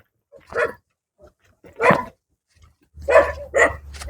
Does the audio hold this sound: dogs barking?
yes